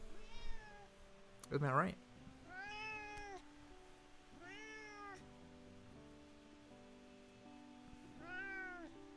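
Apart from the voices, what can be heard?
pet cat meowing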